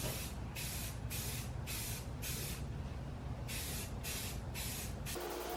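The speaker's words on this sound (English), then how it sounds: "We're going to be using this Rust-Oleum 2-in-1 filler and sandable primer." A can of Rust-Oleum 2-in-1 filler and sandable primer sprays a helmet in a series of about eight short, close hissing bursts separated by brief pauses, with no talking.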